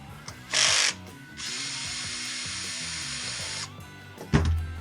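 A power driver removing screws from a Husqvarna 122C string trimmer, two whirring bursts, a short one then a longer steady run, followed by a clunk as the tool is set down.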